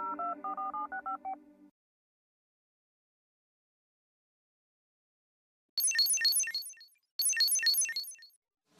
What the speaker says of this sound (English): I'm going to FaceTime him.